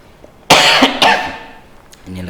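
A harsh cough bursts out loud and close, followed by a second cough, then a brief voice starts at the end.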